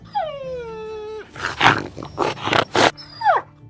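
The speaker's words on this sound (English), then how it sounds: "I've got the dogs in the boot, Toffee's whining" A dog shut in a car boot whines in long, falling, high-pitched cries, broken by a run of short, rough bursts, then whines again, close and fairly loud.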